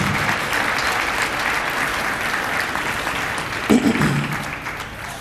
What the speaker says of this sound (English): let's give all of you a round of applause.